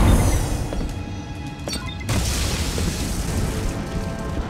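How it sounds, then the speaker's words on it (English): Sound bombs hurled by the Goblin go off in the Spider-Man: The Movie video game, bursting as a loud, rumbling boom that swells again midway amid a dense, noisy game mix. "Oh, apparently some kind of sound bombs."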